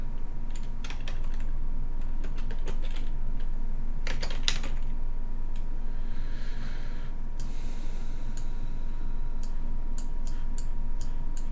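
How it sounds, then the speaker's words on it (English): Keys tapping on a computer keyboard in scattered bursts over a steady background hum, with a brief hiss of other noise in the middle; no talking. "type help wanted"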